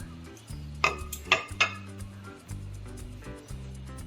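Chopped onion, green chillies, curry leaves and coriander are mixed in a bowl for pocket samosa filling, with three sharp metallic clinks of a spoon against the bowl over soft stirring, close up.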